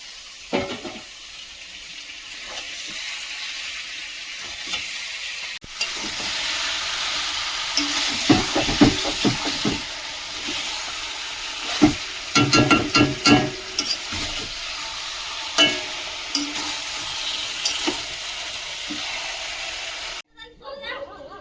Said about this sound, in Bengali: মশলাটা কষিয়ে নিয়েছি এবার মাংসটা দিয়ে দেব